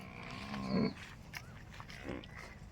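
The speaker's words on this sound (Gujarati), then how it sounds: "પાડો રાડ દે છે આપણો" A buffalo calf with a birth defect of the mouth bellows once loudly, a short rough call, followed by a fainter second cry in an outdoor setting.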